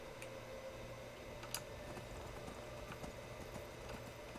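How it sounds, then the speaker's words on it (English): Ghostly horse hooves clip-clop in the Skyrim video game, a quick run of light, regular hoofbeats over a steady background hum with a sharper click near the middle. "What's with this ghost horse?"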